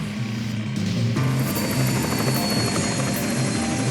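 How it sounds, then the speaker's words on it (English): A video-game helicopter spins wildly, its rotor whirring loudly and continuously for several seconds with no voices over it. "The chopper was spinning wildly."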